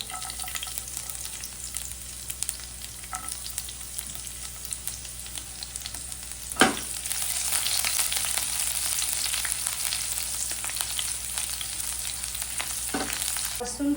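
Garlic and green chilies hit hot oil with cumin, sending up a steady loud sizzle with a sharp burst near the middle and occasional stirring scrapes, no voices present.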